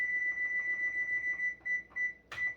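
A kitchen timer being set during kettle corn cooking gives off a steady, shrill electronic beep broken by short gaps, ending with a brief clatter, close and fairly loud with no talking.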